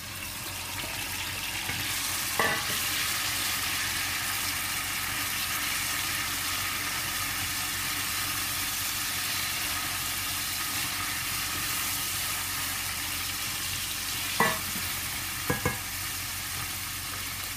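Tomatoes added to browning garlic, frying in a pan for zaalouk: a loud, steady hiss of sizzling oil held throughout, with a few brief utensil clinks near the start and end.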